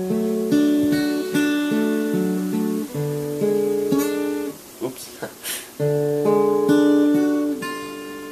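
An acoustic guitar plays the verse of a song as ringing, overlapping picked notes. The playing has a short, quieter break in the middle before the notes resume.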